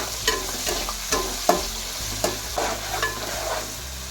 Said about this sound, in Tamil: இதை சேர்த்துங்க இது வதக்குங்க